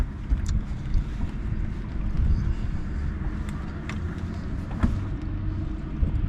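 A 2017 Tracker Pro V 170 boat runs on the water under its Mercury 115 outboard, a steady low motor drone mixed with wind buffeting and occasional hull slaps.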